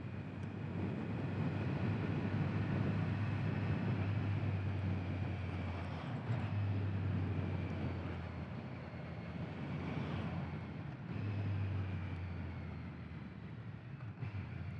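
A 2022 Kawasaki Z900 motorcycle engine braking down to a stop, heard as a steady, loud, rumbling drone with wind roar and low engine tones that rise and fall in a few surges.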